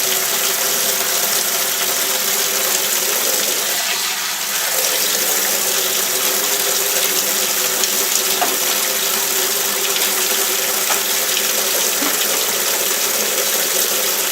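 A steady, continuous rush of water pouring into a container, loud and close, running without a break for the whole stretch with no voices.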